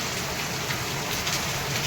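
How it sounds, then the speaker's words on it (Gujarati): Heavy monsoon rain in Surat pours down in a dense, unbroken roar, close and loud, with no voices. "એટલો વધી ગયો વરસાદ"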